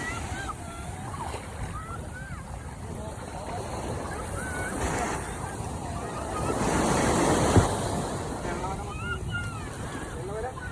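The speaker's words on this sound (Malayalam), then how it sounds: "നമ്മുടെ ബോട്ട് വന്നിരിക്കുകയാണ്, വള്ളം വന്നിരിക്കുകയാണ്" A fishing boat coming in at Alappuzha beach with steady surf and waves washing in, under constant wind rumble and swelling louder midway, with birds chirping faintly in the background.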